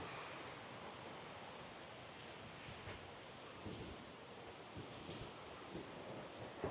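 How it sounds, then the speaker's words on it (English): Water rushes over a small weir in a steady, broadband wash, distant and continuous, with some wind across the microphone. "you hear those waterfalls? There's a wee weir or waterfalls down there"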